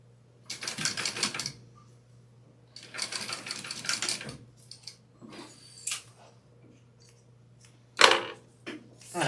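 A sewing machine bastes exterior fabric to a zipper in short bursts of rapid mechanical stitching, separated by quiet pauses and a few clicks of handling.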